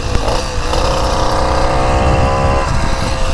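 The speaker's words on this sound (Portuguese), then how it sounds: "A primeira motorizada que eu ando assim" Original moped engine revving close by, a loud buzzing whine that climbs in pitch and holds for about two seconds before dropping back to a rough idle.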